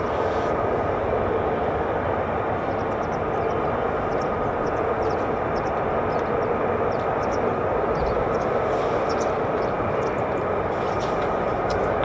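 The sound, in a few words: F-15 and F-35 fighter jets on the runway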